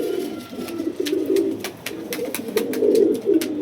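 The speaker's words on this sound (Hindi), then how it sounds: "आजम मियाँ के जो कबूतर हैं माशाल्लाह काफ़ी उम्दा खूबसूरत कबूतर हैं" Pet pigeons coo in a steady, soft throaty rolling murmur, close by and continuous, with faint sharper clicks or taps over it and no talk.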